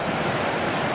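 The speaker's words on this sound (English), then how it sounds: "there's a fair bit of water pushing down here" River water rushes over rocks in rugged trout country, a loud, dense, unbroken roar that stays close and constant for the whole second.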